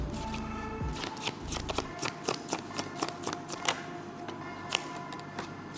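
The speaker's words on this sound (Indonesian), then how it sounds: "Banyak nggak bisa ngocok ya?" A deck of playing cards is shuffled by hand during a card game, giving a quick run of crisp riffling clicks and flutters at close range that repeat over several seconds with no talk.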